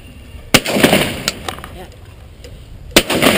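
Two sharp, loud shotgun blasts about two and a half seconds apart ring out on the Fishhawk sporting clays course as clay targets are fired at, with quieter outdoor noise between the reports.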